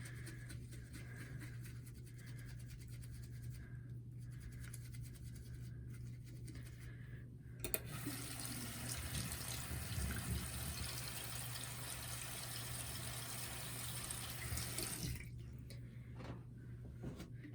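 Tap water running as a large, dense makeup brush is rinsed until clean, a steady rushing stream that swells louder midway and then drops back, with a constant low hum beneath.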